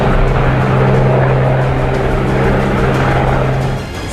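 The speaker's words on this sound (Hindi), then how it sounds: "सेना का एक हेलीकॉप्टर" An army surveillance helicopter flies over mountain valleys, a loud, steady droning roar with a low rotor hum that holds close, then eases slightly at the end.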